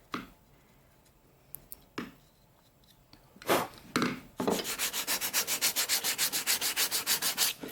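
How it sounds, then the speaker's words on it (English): Scattered rubs and taps, then steady rhythmic back-and-forth light sanding strokes on a carved wooden Swedish horse, close up and fairly quiet. "So I'm giving a real light sanding."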